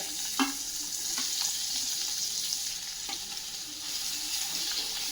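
Finely chopped onion sautés with urad dal in hot oil while jowar ukadpendi is being made, giving a soft, even sizzle throughout with a few light spoon taps.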